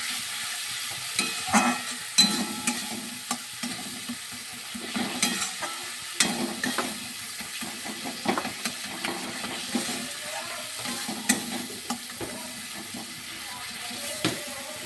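Cumin powder is stirred into koi fish frying in oil in a pan, giving a steady sizzle with repeated scraping strokes of the spoon throughout, close and fairly quiet, with no talk.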